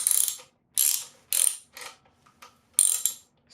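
Socket ratchet clicking in short bursts as a thread repair insert is driven into a 2008 Acura MDX engine block, five or six close, crisp ratcheting strokes separated by brief pauses.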